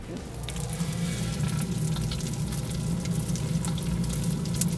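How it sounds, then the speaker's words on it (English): Continuous crackling sizzle of slime reacting with activator, like bacon frying in a pan, steady and close, with no voices. "It's literally sizzling, but it's also deactivating our slime."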